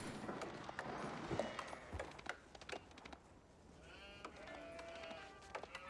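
Sheep bleat in an Age of Empires 4 match, several short wavering calls over soft hoof clip-clops and game ambience, with a commentator talking lightly underneath.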